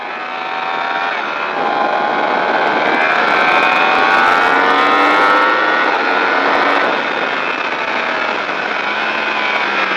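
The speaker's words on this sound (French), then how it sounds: "on va pouvoir davantage redresser la moto et accélérer" Motorcycle on the Le Vigeant race circuit, its engine droning in a layered, harmonic tone that swells louder, holds as it accelerates past, then eases slightly, with no talk.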